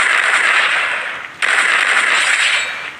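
Rapid gunfire from a mobile shooter game, with a steady stream of sharp shots that cuts out briefly midway and then resumes at full loudness, with no talking.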